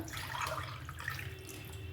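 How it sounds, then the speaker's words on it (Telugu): Water poured into a pot of rice for potato pulao, a short steady splashing stream close by. "ఒక్కటికి రెండు వాటర్ పోయాలండి"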